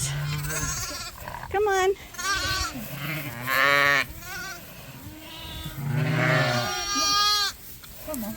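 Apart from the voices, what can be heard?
ewes and lambs bleating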